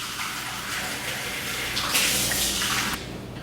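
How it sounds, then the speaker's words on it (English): Water runs steadily from a kitchen tap while a cup is rinsed out during smoothie making, a continuous close hiss that swells louder briefly partway through and then drops back. "Wash out the cup again."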